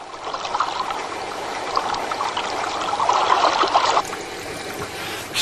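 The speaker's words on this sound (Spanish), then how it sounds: "Ahora se vierte continuamente un chorrito de sulfato férrico en el agua" A thin stream of ferric sulphate poured continuously into water at a wastewater treatment plant gives a steady, close, loud trickling splash that rises somewhat, then eases near the end, with no talk.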